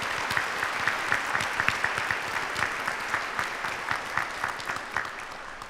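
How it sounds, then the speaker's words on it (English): Sustained applause from a seated audience at a nursing college hooding ceremony, dense steady clapping with scattered louder claps, no speech over it. "Let's give them a round of applause."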